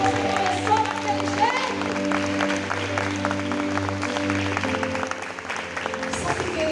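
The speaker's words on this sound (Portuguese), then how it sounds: "pode aplaudir Jesus" A church congregation applauds during a sermon, steady clapping of moderate loudness running beneath sustained musical tones from a keyboard or organ, fading toward the end.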